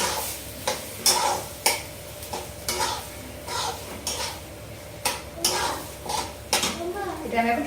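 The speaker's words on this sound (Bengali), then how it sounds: "আর লবণ এটা এখন আমি সুন্দর করে কষিয়ে নেব" A chickpea masala with turmeric and salt is stirred and sautéed in a pan: repeated metallic spatula clanks and scrapes in a fairly regular rhythm over a light sizzle, close and moderately loud, with a voice faintly present.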